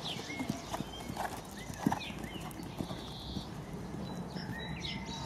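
Horse hooves clip-clop at a horse sale show in Gunzenhausen, an irregular series of soft thuds on the ground over faint background chatter and bird chirps.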